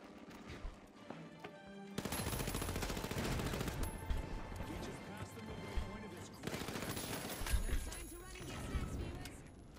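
Gunfire in The Finals shooter game, rapid bursts of shots mixed with game music and effects, continuous from about two seconds on, with talk over the top.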